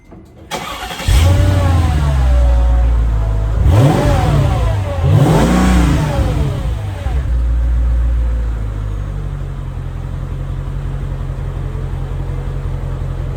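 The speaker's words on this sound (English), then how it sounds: "There's a quick little cold start" A Mercedes E55 AMG on its stock exhaust fires up on a cold start, settling into a loud, close, steady idle with two sharp revs rising and falling along the way.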